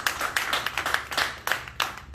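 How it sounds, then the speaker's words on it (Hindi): An audience claps at a campaign kickoff ceremony, a close run of distinct, slightly uneven hand claps in quick rhythm over a faint low hum. "इनके लिए बहुत सारी तालियां हैं"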